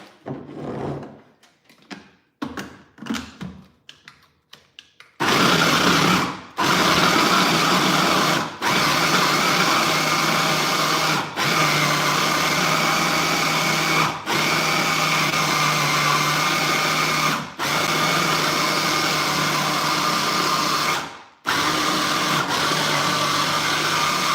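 A loud electric chopper whirs steadily in several long bursts while mincing meat, with brief pauses between runs, after a few seconds of quieter clattering.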